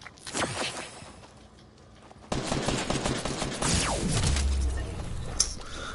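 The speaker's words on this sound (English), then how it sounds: "I only heard like 2 gunshots." Gunfire in Fortnite, several bursts of shots with sharp cracks and echoing tails, plus clicks and movement sounds, at moderate loudness with no speech.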